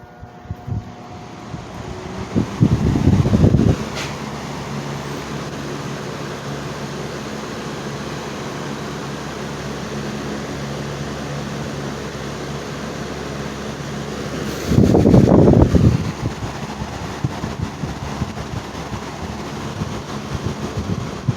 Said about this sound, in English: now I have the fan plugged in here, and I'm going to start it up